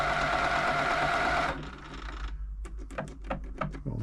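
An Elna Club Computer 500 sewing machine running steadily, then stopping, followed by a quick series of sharp mechanical clicks and taps.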